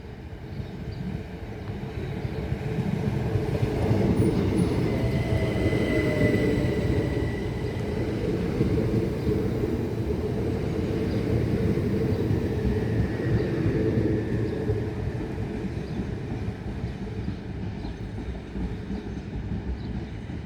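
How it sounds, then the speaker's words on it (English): A Class 375 electric train runs empty stock through Tonbridge on the main line, a loud, continuous rumble with a rattling rail clatter and a faint whine sustained throughout the pass, with no talk. "375622 running in the ECS from Tonbridge down main to London Bridge"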